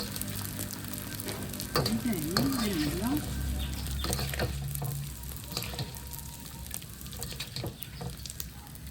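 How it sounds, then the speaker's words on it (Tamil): Ingredients for a homemade crispy mixture snack fry in hot oil. A loud, continuous crackling sizzle sounds close up, with scattered stirring clinks throughout. "இப்படியே எல்லாத்தையும் பொரிச்சிடுங்க."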